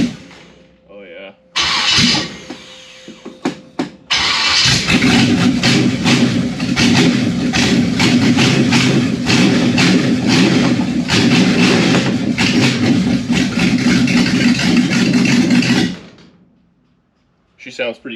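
A 1955 Chevy Nomad cranks a few times, then fires on its first start with the key and settles into a loud, steady, close-up idle that runs for about ten seconds before shutting off.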